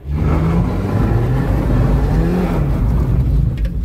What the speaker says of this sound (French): Il patine grave encore l'embrayage